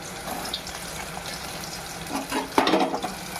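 Chopped onions sizzle and crackle steadily in a pan for a mutton curry, with a brief louder scrape or stir near the end and no talking.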